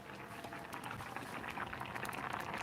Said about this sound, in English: Can you hear that bubbling?